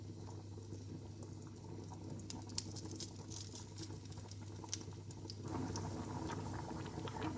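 Minced garlic and green beans sautéing in melted butter in a pan, a steady close sizzle with soft crackling pops over a low hum, growing slightly louder toward the end.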